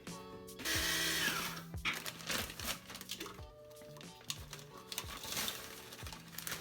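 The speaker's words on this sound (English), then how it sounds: "I'm actually going to use a food processor to make the process a little easier for me" A food processor blitzes Oreo cookies for a strawberry crunch topping, a loud whirring grind that starts abruptly and runs in bursts with rattling pieces and pauses, no voices.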